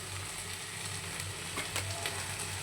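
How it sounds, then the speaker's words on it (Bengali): Quiet, steady sizzling of potatoes frying in ghee with green chillies, a continuous soft crackle with a low background hum. "আজকে একাদশী, তো ঘি দিয়ে একটু আলু ভাজা বসিয়েছি এখানে।"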